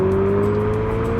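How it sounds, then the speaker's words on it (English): A Fiat 500e electric car plays its artificial engine sound: a loud, steady synthetic revving tone held close and alone, with no pauses. "Yes, that's the artificial sound. Engine revving on an EV."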